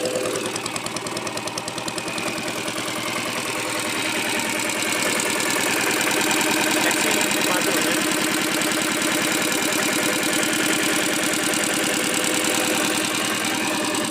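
A diesel Bullet motorcycle engine, a restored Taurus, idles steadily nearby, a continuous loud, rattling chug with no pauses or change in pace.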